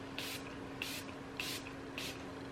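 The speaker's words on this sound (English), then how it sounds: "is this going to spray?" A cosmetic spray bottle gives four short, evenly spaced hissing pumps, close and clear over a quiet background hum, with no talking.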